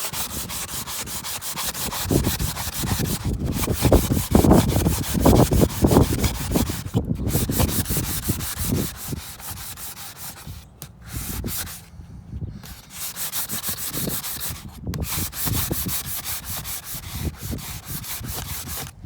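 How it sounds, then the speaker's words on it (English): A wooden shutter being hand-sanded outdoors, with rhythmic back-and-forth rasping strokes, close and loud at first, then lighter strokes broken by short pauses. "So you'll be able to sand it."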